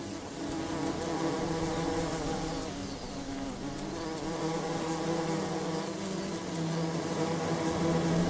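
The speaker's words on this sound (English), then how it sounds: "Opens with a creepy sample of bees, like a hive" A dense, droning swarm of bees buzzes steadily like a hive, opening a track; the hum stays loud and continuous throughout with no voices.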